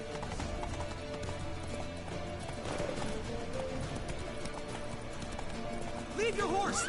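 Horse hooves galloping in The Witcher, a continuous rhythmic clip-clop under game sounds, with a voice talking over it and a brief whinny near the end.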